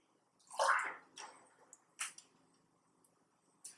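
Glass jam jars are set one by one into a water-filled canner for sterilizing, giving a splash and watery slosh followed by a few brief clinks and drips, close and otherwise quiet.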